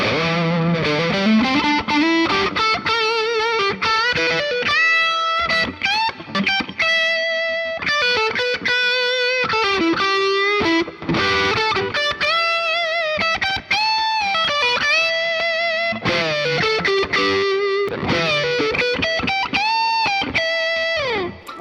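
Gibson La Tosca electric guitar in cherry sunburst, played through distortion with its pickups wired out of phase, giving a thin, nasal, quacky tone; a continuous run of sustained chords and melodic phrases, loud and upfront with no talking.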